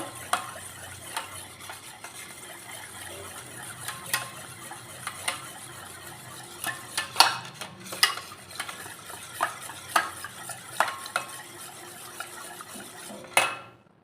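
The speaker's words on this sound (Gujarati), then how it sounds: "ગોળ, મીઠું, હળદર, ચણાનો લોટ નાખ્યા પછી આપણે આ રીતે સરસ રીતે મિક્સ કરી લેવાનું છે।" Gram flour, jaggery, salt and turmeric being stirred into buttermilk for okra kadhi, with soft scraping and clinking of a spoon against the vessel, a steady low rustle broken by sharper taps toward the end.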